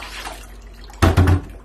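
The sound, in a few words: leftover water draining out as it displaces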